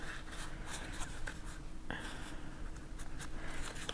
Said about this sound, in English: I usually fold them a little bit back and forth